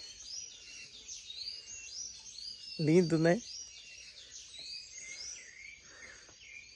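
Birds chirp and trill continuously in the background outdoors near a wood fire, with a brief spoken remark in the middle.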